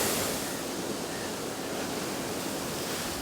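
Rough sea at Konad beach in Kozhikode crashes in a constant heavy roar of surf and wind, a close, loud broadband rush with no pause and no voices.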